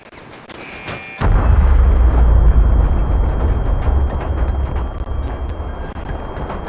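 A big weapon fires in the Medal of Honor VR video game. A sudden heavy explosion breaks out after a second and settles into a loud, sustained rumbling roar with crackling debris and a steady high whine.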